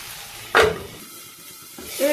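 Fish pieces sizzle in hot oil with a short, loud burst of hiss near the start and another swell at the end, over a quiet background hiss.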